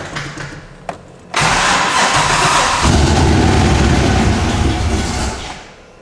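A blown LS3 V8 in a race truck cranks briefly, catches and roars to a loud, rough idle that holds steady for several seconds before settling, close and with no talking over it.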